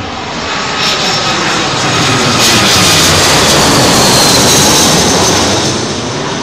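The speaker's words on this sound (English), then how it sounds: "Aircraft that's been in the Lambourne hold for a couple of laps." Loud jet aircraft arriving on runway 27L at London Heathrow in windy weather, a broad continuous engine roar swelling and holding as the plane passes close overhead, with wind rushing across the microphone.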